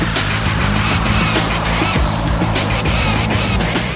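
Banger racing cars pull away together from the starting grid, a dense, loud roar of engines with rising revs and rattling bursts close by, continuous throughout.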